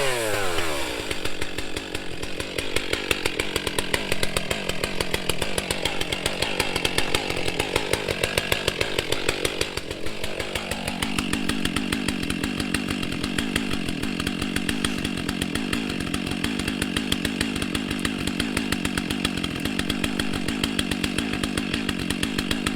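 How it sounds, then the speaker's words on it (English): A Stihl MS661C chainsaw cuts fallen trees, running steadily and loudly for over twenty seconds, its engine note bogging and shifting pitch under load before settling into a sustained buzzing drone. "Let's get that MS661C from Stihl into a bit of wood action"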